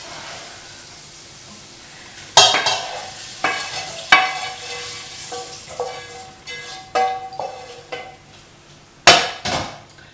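Bacon and mushrooms are dropped into an egg mixture in a bowl, producing a series of sharp clinks and taps with soft stirring in between, loud and close, with irregular hits and two stronger knocks near the end.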